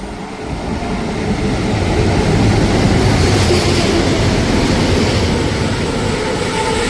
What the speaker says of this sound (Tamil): இப்போ பார்த்தீங்கன்னா ட்ரெயின் வந்து கொண்டு இருக்குது.